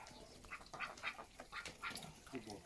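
Ducks on a village farmstead in the morning, giving a run of soft, nasal quacks and grunting calls one after another, fairly quiet and close by.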